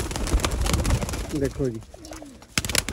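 Large golden Sialkoti pigeons coo in short throaty bursts at close range, heard among background clatter while someone speaks briefly.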